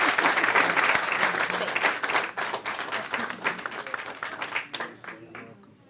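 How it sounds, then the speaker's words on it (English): Gala guests at a Frye Foundation event applaud warmly, a full wash of clapping that gradually thins into scattered claps and dies away, with some voices mixed in. "And clapping for you."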